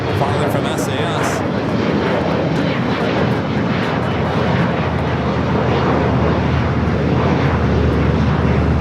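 Jet airliner taxiing and making a U-turn from taxiway Charlie to Bravo at LAX, Los Angeles, a steady broadband engine roar that holds loud and continuous throughout, with no voices heard.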